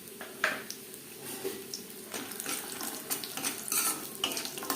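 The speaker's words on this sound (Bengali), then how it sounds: "বড়ি ভেজে নেব।" Bori, small lentil dumplings, frying in oil in a kadai on a gas stove, with a steady close sizzle broken by brief stirring scrapes and light clinks of a utensil against the pan, no voices.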